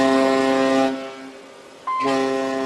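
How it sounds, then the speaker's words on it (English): A ship's foghorn sounds to warn off an approaching pirate boat as a tanker sails off Somalia: a loud, steady, droning blast cuts off, pauses about a second, then booms again. "The foghorn is to tell them they've been spotted"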